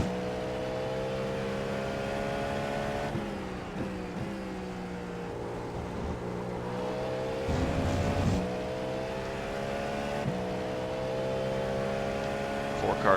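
Cadillac V-Series.R prototype race car in the iRacing sim, lapping Road America in an IMSA fixed-setup race, its engine droning steadily and loudly with pitch rising and dropping through gear changes for the whole stretch.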